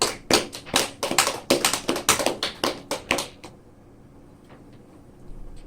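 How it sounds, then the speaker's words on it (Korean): A church congregation claps for members' birthdays during a Sunday service, a brisk run of sharp, close hand claps that stops abruptly after about three seconds, leaving a quiet room. "박수 한번 하도록 하죠."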